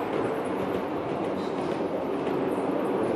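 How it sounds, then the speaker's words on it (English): A train runs at the Yukon Transportation Museum, a steady, dense rumble of rolling rail noise close by and sustained throughout with no voices. "I could sit here all day just watching this here train."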